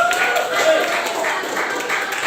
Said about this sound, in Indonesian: boleh tepuk tangan buat kamu